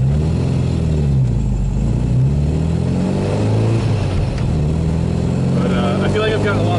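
A 1974 MGB-GT with a manual gearbox on a drive, its engine droning loudly and steadily with small rises in revs, while someone talks over it throughout.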